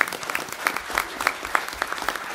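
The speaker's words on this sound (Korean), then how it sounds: "시원하진 않지만 우리 모두를 위해서 한번 박수 좀 칩시다" Audience applause at a Korean future policy conference forum, brisk steady clapping from a crowd, close and fairly loud, with sharper individual claps standing out.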